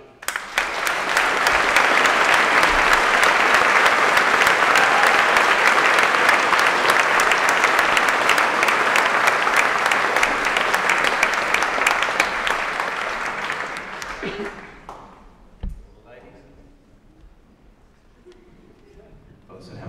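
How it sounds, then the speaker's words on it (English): Large auditorium audience applauding after a climate talk, a loud sustained roar of clapping lasting over ten seconds before fading away, followed by a few scattered claps and quiet. "you've already given a round of applause"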